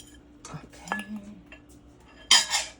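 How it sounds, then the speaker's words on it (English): Utensil stirring Cantonese chow mein noodles with chicken and garlic in a pan, a few scattered metallic clinks and scrapes, ending in a louder clatter against the pan, with brief voice sounds between them. "Get the stirring going."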